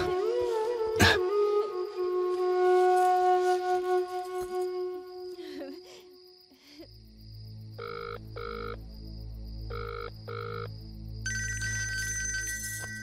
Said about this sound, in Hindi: ए जी भैया के फोन।